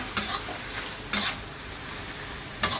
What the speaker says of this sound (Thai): แล้วหลังจากนั้นเราก็เติมใบกะเพราลงไปค่ะ แล้วเราก็ผัดให้เข้ากันนะคะ